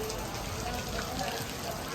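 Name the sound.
rain falling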